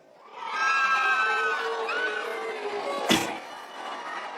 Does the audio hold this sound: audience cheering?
yes